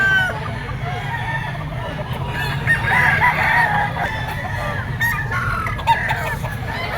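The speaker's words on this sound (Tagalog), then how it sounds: "Isang white dome, white legged cock." A white-legged gamecock rooster crows in a loud, drawn-out call at a cockfighting gamefowl sale, with other fowl clucking and a low crowd murmur underneath, fairly close.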